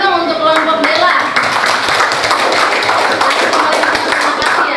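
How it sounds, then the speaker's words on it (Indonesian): Classmates clap for a student group after its presentation in a school classroom, a dense patter of hand claps running steadily throughout at close range, with some voices mixed in. "tepuk tangan dong untuk kelompok Dela"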